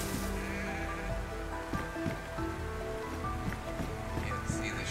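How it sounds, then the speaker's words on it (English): Sheep bleating in the video game DayZ amid constant patter of rain and ambient game noise, a few faint bleats scattered through a steady wash of sound. "Can't see the sheep. I know they're there though."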